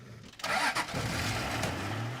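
An old, worn-out military reserve vehicle engine cranks and sputters close by in Namibia, turning over steadily with a rough mechanical drone but not catching.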